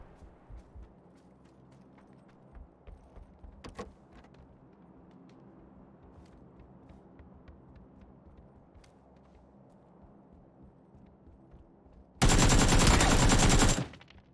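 M4 assault rifle fire in the PUBG video game: one loud, sustained burst of rapid automatic shots near the end, after a long stretch of quiet, faint game ambience and a few soft thumps.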